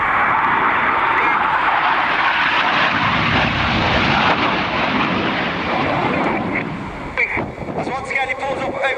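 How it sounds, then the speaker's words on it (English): Red Arrows display jet roars loudly and continuously throughout a high-speed pull-up and roll at an airshow, with wind buffeting the microphone and a faint crowd or commentary voice underneath. "he pulls up over 400 miles per hour, 4 to 5G as he rolls the aircraft to the right"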